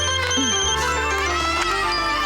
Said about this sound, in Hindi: लगता है उसी का फोन है।